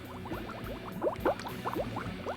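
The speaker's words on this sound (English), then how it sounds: "See it bubbling? Bubbling, bubbling, bubbling, bubbling. Look at it bubbling. It's bubbling up." Hydraulic oil bubbling and glugging in the filled tank of an Exmark Lazer-Z mower, a steady run of close, quick bubble pops with a few louder rising gurgles.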